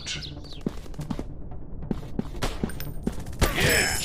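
Gunfire in a first-person shooter video game: a quick run of sharp, separate shots in an irregular rhythm, loud and close, with other game effects around them and no speech.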